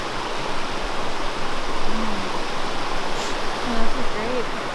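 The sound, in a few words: river water flowing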